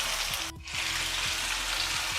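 Chicken pieces for murg musalam sizzle and fry in a hot pan, a steady loud crackling hiss with a brief dip partway through, close and continuous, with no talking.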